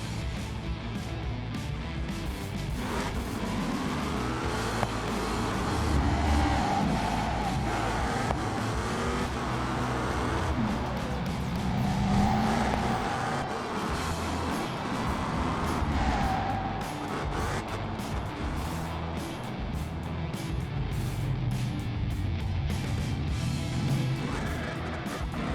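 An American car drives along a highway in a racing game, its engine a steady, fairly loud drone that holds throughout with small surges and shifts, and no voices over it.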